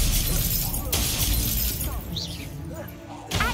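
Spell-casting combat effects in the Hogwarts Legacy video game, with dense crackling bursts and glassy shattering impacts over loud game sound. Activity eases briefly before a fresh burst near the end.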